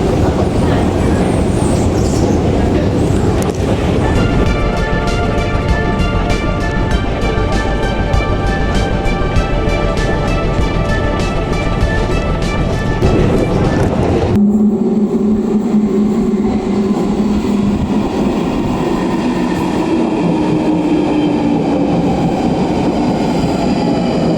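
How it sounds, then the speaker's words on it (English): London Underground Northern Line train underway, a loud continuous rumble and roar with rhythmic clatter and a whining tone, shifting abruptly to a lower, steadier rumble partway through. "I'm going to take the Northern Line to Elephant and Castle"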